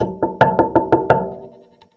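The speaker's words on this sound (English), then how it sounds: "She knocked again." Knocking on a hut door: six quick, firm raps in an even rhythm, close and resonant, fading into a short ringing tail.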